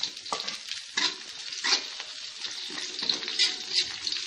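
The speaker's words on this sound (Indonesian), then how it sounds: "Kita bisa masukkan irisan cabai." Sliced chili sautéing with fragrant garlic for a water spinach stir-fry in oyster sauce, giving a steady sizzle with a few louder spatula stirs and scrapes, close up, with no talking.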